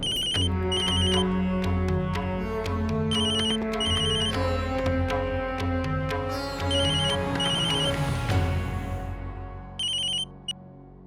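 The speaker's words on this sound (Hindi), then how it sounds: "फोन उठाइए नैतिक।" A phone ringtone plays a repeating electronic melody over several cycles, loud and close, with no talking, ending with a few short beeps.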